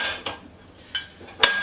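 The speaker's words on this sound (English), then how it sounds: "I just have a bunch of dishes to put away." Three quick, bright clinks of dishes and cutlery being put away in a home kitchen after a dishwasher load, spaced apart and close by, with quiet between them.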